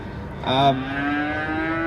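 A beef cow at the Ekka stud beef show ring gives a single rising, drawn-out moo, fairly close and clear over low background murmur.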